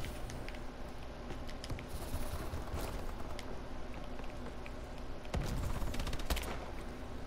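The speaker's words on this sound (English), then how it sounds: "Oh god, sentry gun." A sentry gun fires in a Call of Duty: Advanced Warfare multiplayer match, dense rapid bursts of automatic gunfire layered with other shots and battle clatter, loud and continuous with a few sharper cracks near the end.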